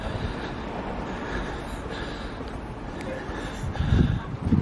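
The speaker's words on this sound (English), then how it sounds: "There's a train just going over in the distance there now" A distant train rolls along the running line near the former Wrexham engine shed site, a low steady rumble in outdoor air that swells slightly toward the end.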